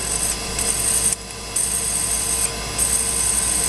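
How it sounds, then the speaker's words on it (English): A drill in a milling machine bores into a center-punched metal part, a steady close grinding whir with a high whine that stops briefly and resumes, with no voices. "So we're just gonna drill it kind of manually in the center punch marks"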